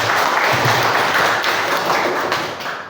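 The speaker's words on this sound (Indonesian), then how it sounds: "Kita kasih aplaus dulu untuk SD Jakarta." An audience applauds a primary school group from Jakarta, a loud, dense patter of clapping that fills the whole moment and tapers slightly at the end.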